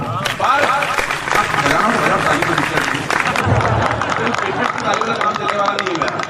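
Loud, sustained applause from a large audience at a poetry recital, dense clapping filling the whole stretch with crowd noise beneath.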